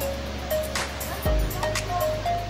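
Sea waves wash onto a beach at Calayo, Nasugbo, Batangas, a steady broad rush of surf with low rumbling swells, fairly close and continuous, with faint hum in the background.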